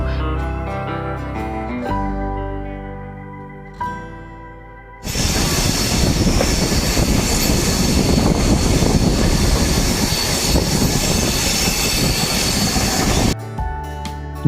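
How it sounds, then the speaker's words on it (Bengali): The Kanchankanya Express rolls slowly through jungle on the line toward Bhutan, a loud steady roar of wheels and hiss that starts abruptly after quieter tones and holds for several seconds before cutting off. "জঙ্গলে ট্রেন প্রবেশ করার পর ট্রেন একটু স্লো চলার কারণ হচ্ছে"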